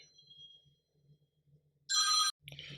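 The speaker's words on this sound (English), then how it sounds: "I got a phone call." A telephone rings in a short burst, loud and close, followed by a brief second electronic tone, against near silence with faint low background hum.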